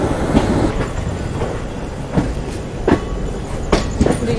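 Indian railway train wheels clack over points while changing tracks, a rumbling rolling roar with repeated sharp clicks at irregular intervals, close and continuous with no talk.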